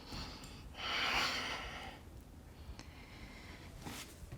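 Slow, deep breaths during a core yoga session, a long audible exhale followed by quieter breathing and a sharp nasal intake near the end, close and soft.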